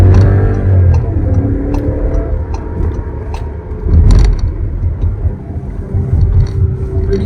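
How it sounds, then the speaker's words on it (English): A 2023 Škoda Slavia 1.0 TSI sedan takes a high-speed corner in first gear in sport mode, a steady low engine rumble and road noise from inside the cabin with a few light ticks and a brief surge midway. "we're gonna take a high-speed corner now"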